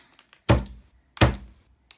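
Two sharp, loud thunks of a bar of white chocolate being struck to break it, spaced well apart with a few faint taps in between and no talking.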